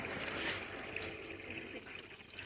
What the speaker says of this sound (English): There's waterfall water.